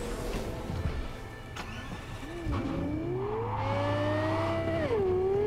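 A car in Cyberpunk 2077 starts up, its engine catching and then revving steadily with rising and falling pitch, loud and close over game ambience.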